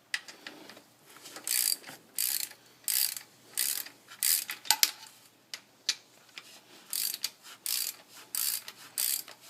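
Hand ratchet clicking as a bolt is run in on a 2006 Ford Crown Victoria Police Interceptor, rapid bursts of close ratcheting in an uneven back-and-forth rhythm, with no talking.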